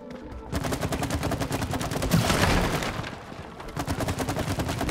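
Rapid repeated shooting in the co-op video game It Takes Two, a fast, even stream of shots that swells into a louder rush midway, then settles back into steady firing.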